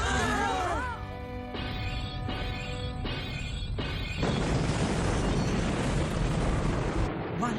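Anime space battle in which a spaceship weapon fires with rising sci-fi tones, then a heavy rumbling explosion roars continuously, loud and dense, with a brief voice near the start.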